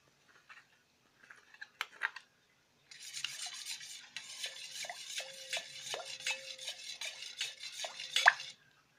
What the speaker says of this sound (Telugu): మనం వేయించి పెట్టుకున్న మిశ్రమాన్ని ఇప్పుడు పెరుగులో కలుపుకోవాలి